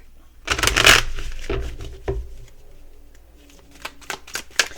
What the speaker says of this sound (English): Now let's see what we have for shuffling the deck.